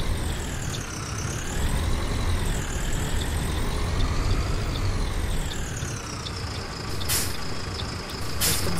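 A Neobus Mega Plus 2013 bus on a Mercedes-Benz OF-1721 chassis in the OMSI 2 simulator pulls away, its engine droning and rising and falling in pitch through gear changes, with two sharp air-brake hisses near the end and no talk.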